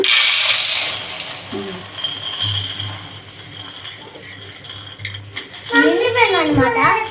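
Dry boondi mixture snack poured into a container gives a light, rattling clatter of crunchy bits, fairly close and steady, with a brief voice near the end.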